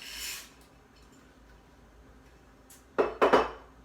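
Frozen corn and peas tipped into a pot of chicken broth, heard as a quiet scrape at the start, then near silence and a burst of rattling, clattering kernels hitting metal toward the end.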